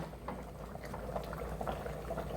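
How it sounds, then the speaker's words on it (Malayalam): Thick sambar bubbles gently in a pot, soft irregular blips and pops over a low steady simmer, quiet and close. "അപ്പോൾ അതേ നമ്മൾ സാമ്പാറൊക്കെ തിളച്ച് സെറ്റ് ആയിട്ടാ"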